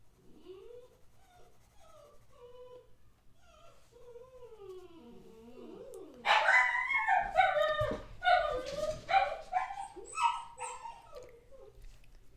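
Puppies next door whine and yelp in high, wavering cries, then break into a louder run of overlapping barks and yips in the second half, heard from a short distance away.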